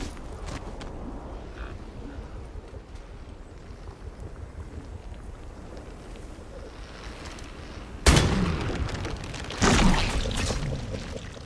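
In Atomfall, a shot hits a plant and it explodes, a sudden loud blast followed by a second burst about a second later, after a stretch of quiet windy ambience.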